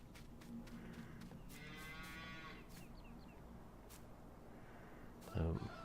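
Cattle moo in a cow yard in Farming Simulator, a few drawn-out calls at moderate distance over steady farm ambience, with a short louder knock near the end.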